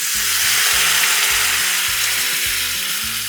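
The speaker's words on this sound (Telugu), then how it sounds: "ఇలా తాలింపు చేసిన తర్వాత కొద్దిగా నీళ్ళు వేసేయండి" Water hits hot tempering for coconut chutney with a loud, dense, continuous hiss that fills the whole moment, backed by a low rhythmic musical bed.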